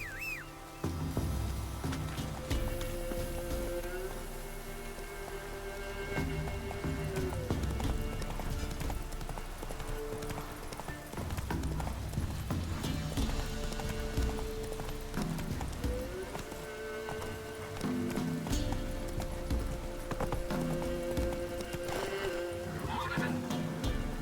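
A horse gallops with rhythmic hoofbeats in The Witcher 3, joined by loud neighs and whinnies, while game music and ambience play steadily underneath.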